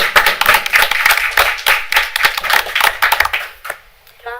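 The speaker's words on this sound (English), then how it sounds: "how about a round of applause for Amber?" Applause at a county board of commissioners meeting: a room of people clapping briskly and steadily, then tapering off into a few scattered claps and quiet.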